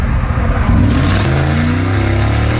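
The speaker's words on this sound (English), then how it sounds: "The 23-year-old takes off, seen weaving through cars on the interstate in his Dodge Charger" A Dodge Charger accelerates hard on an interstate, its engine revving loudly and rising in pitch, with a broad roar of road and wind noise throughout.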